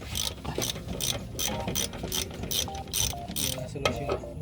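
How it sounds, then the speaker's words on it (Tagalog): A ratchet clicks rapidly and steadily up close while loosening the wheel cylinder bolt on a stuck drum brake, in bursts of pawl ticks over a workshop background. "Tanggalin na yung bolt ng wheel cylinder."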